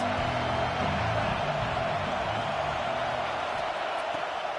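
A football stadium crowd roars for the home defense on a big third down in the red zone, a dense, far-off wall of cheering and noise, steady throughout with a commentator's voice over it.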